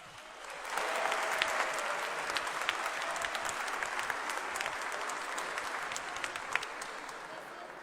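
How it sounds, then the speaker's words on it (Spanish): Sustained applause from an audience of children at a science talk on DNA, a dense wash of clapping that starts after a brief pause and stays loud and steady to the end. "Aplausos para ustedes"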